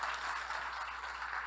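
Steady applause from a live audience, a dense even wash of many hands clapping at moderate distance, sustained without pause and with no talk over it.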